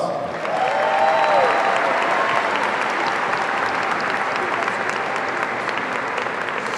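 A large crowd applauds top scholars at a 2018 high school graduation ceremony, loud sustained clapping filling a big hall, with a faint tonal whistle or cheer near the start.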